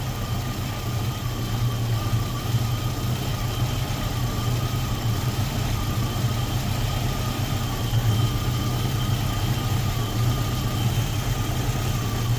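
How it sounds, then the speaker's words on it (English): A Datsun roadster with an EFI engine idles steadily while its idle valve is adjusted, a close, even low rumble with a constant hum and no change in speed across the stretch. "we're going to start cranking this guy up here and see if we get any more idle out of it."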